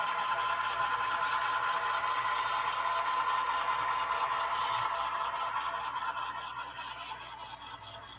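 A model BNSF locomotive gives off a steady, buzzy engine idle sound that stays even and continuous, then fades slightly near the end.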